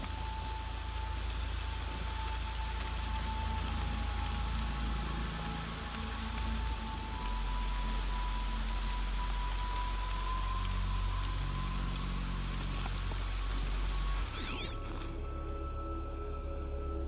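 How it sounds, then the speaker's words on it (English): Steady rain falls in Horizon Zero Dawn, a continuous dense patter with a low rumble beneath, running unbroken for most of the stretch before the sound abruptly shifts and thins near the end. "More rain. My boots will get damp."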